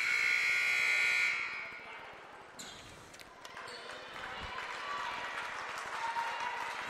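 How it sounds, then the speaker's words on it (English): Fans in a gym cheer and clap during a girls' high school basketball game, Gehlen hosting in Le Mars; a loud burst opens the moment, then steady applause and crowd murmur continue at moderate volume. "Nice applause from the Jays fans."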